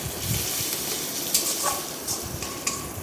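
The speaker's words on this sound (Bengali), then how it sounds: "রসুন বাটাটা এভাবেই কষিয়ে নেব" Garlic paste sizzling and frying in a pan as it is sautéed, a steady close hiss broken by a few soft scrapes and stirs, with no talking.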